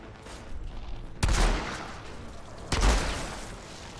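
Two loud, booming bursts of gunfire from a weapon in the video game Outriders, about a second and a half apart. Each blast rumbles and trails off with a noisy decay.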